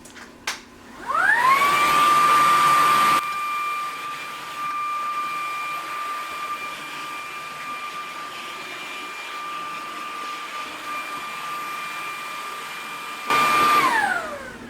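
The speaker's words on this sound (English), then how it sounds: "it's a good idea to vacuum the ceiling fan cover" A vacuum cleaner cleaning a ceiling fan cover starts with a rising whine, then drones loudly and steadily at a high pitch, with a brief louder surge near the end and no talk.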